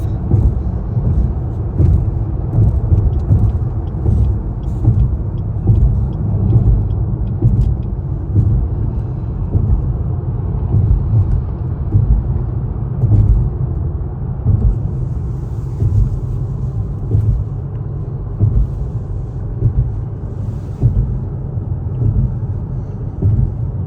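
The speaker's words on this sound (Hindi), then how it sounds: "ये सारी जो आपको ट्रैफिक नज़र आ रही है, ये वो लोग हैं जो मैनहट्टन से निकल के अपने घरों को जा रहे हैं" Heavy New York City traffic leaving Manhattan at the end of the day, a continuous low rumble of cars and buses with occasional louder engine swells and faint brake hisses, sustained and fairly loud throughout.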